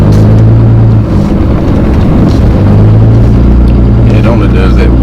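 A 2005 Cummins diesel truck with a new pump, exhaust and tuner drives on a test run, its engine a loud, steady low rumble with slight drone changes and some voices over it.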